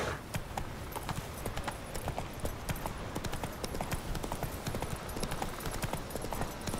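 Roach, a horse in The Witcher 3: Wild Hunt, trots with a steady close clip-clop of hooves over a dense, continuous background layer, and no voices come through.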